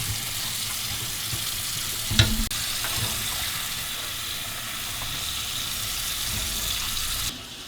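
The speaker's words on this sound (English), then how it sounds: "we're still washing all of the components to get rid of all of the residual manufacturing oil that may be present" Pressure canner parts are scrubbed under running water with a scrubby pad and dish soap. The wash gives a steady, close hiss with a sharp clank around two seconds, and the water cuts off near the end.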